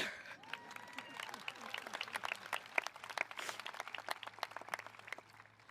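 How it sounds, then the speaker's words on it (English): A graduation ceremony audience for the Class of 2019 applauds steadily, dense clapping from many hands filling the hall for several seconds at a moderate, even level, with a few sharper claps standing out. "we can clap it up for that"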